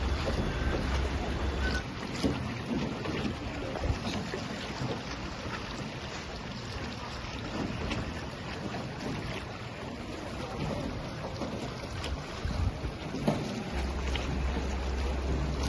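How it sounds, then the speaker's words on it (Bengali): A small boat moving along a river through limestone cave country at Tam Coc, Ninh Binh, with a steady low rumble, water wash and wind buffeting the microphone throughout, no speech. "আমরা নদীর ওপর দিয়ে যাচ্ছি নৌকা করে"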